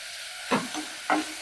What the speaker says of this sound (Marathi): परतून घेऊया थोडस परतल्यानंतर आपण मीठ घालून घेऊया